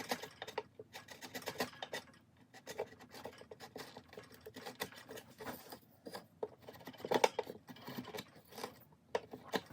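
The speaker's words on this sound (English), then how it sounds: "I just recently sharpened this chisel and it's cutting so well now." A freshly sharpened chisel pares wood on a wooden model logging truck, giving faint, close, irregular scraping and shaving strokes in quick bursts with short pauses between them.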